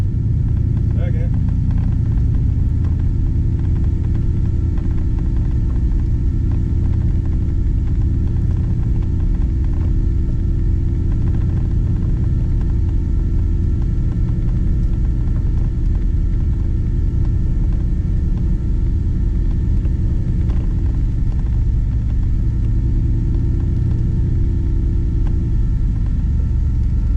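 A 1954 Chevrolet Bel Air with a swapped-in LS engine drives along, its deep, steady engine and road rumble loud and continuous from inside the car.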